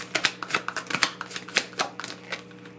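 Tarot cards being shuffled by hand, a rapid series of crisp riffling and snapping bursts close by, with no talking.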